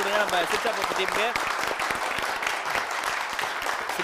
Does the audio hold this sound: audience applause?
yes